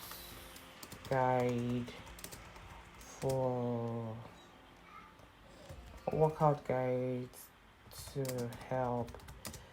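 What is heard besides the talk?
typing an ebook description on a computer keyboard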